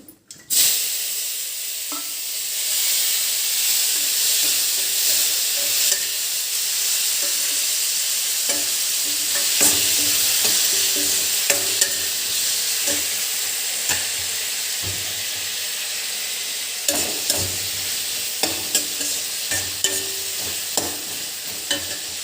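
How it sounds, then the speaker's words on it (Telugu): Tomato pieces frying in a kadai for coriander chutney: a continuous bright sizzle with the sharp scrape and clink of a spoon stirring at irregular intervals, close and fairly loud, with no talking. "ఇప్పుడు ఇదే కళాయిలో టమాటా ముక్కలు వేసుకుంటున్నాను."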